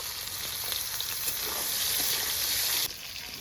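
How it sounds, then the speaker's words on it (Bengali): Boiled potatoes frying in hot oil for masala dal, a dense, loud, continuous sizzle up close that drops a little just before the end. "এবার আমি আলুগুলোকেও একটু তেলে ভেজে নেব"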